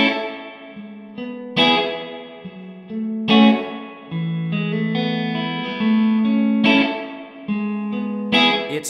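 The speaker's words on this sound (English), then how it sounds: "It will give you plenty of reverb." An electric guitar plays single notes and chords through a Tone King Galaxy amplifier head and 2x12 cabinet, each ringing out with a long, washy reverb tail, no voices.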